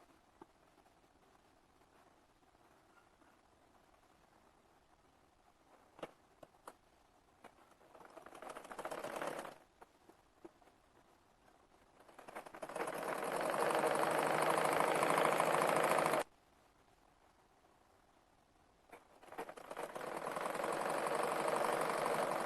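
An electric sewing machine stitches the seams of a Rajasthani poshak kurti. It runs in three separate bursts of steady, fast mechanical whirring, each stopping abruptly, with quieter pauses between them and no talking.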